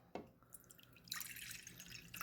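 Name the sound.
pouring water into a bowl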